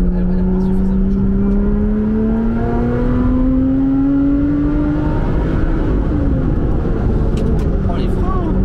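A Lotus 410 Sport engine pulls hard in third gear, a steady rising drone climbing in pitch as the car accelerates, loud and constant from inside the cabin.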